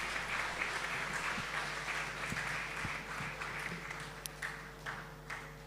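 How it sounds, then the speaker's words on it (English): An audience at a startup pitch event on proptech and real estate claps steadily, fairly faint and distant in the room, with a few sharper individual claps standing out near the end. "Applause for them, please."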